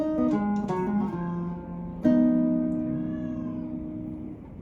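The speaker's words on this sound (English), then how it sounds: "That's my cat in the background." A pet cat meows several times, clear and fairly close, its cries overlapping a gypsy jazz guitar being played during a lesson, with a long sustained guitar note ringing out afterward.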